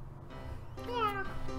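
A pet house cat gives one clear drawn-out meow, close by and rising then falling, with a second shorter call after it while people talk quietly in the background.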